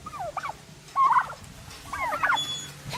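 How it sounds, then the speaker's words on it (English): Turkeys on a farm give several bursts of gobbling, with one loud close call near the middle and more gobbles toward the end over faint background noise. "Here's turkeys."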